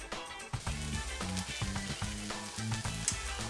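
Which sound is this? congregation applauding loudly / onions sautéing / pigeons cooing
onions sautéing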